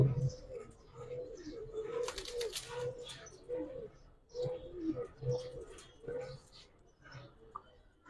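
Pigeons coo in repeated low, throaty calls close by, with a few sharper chirps and brief wing flutters mixed in, while a person talks intermittently alongside them.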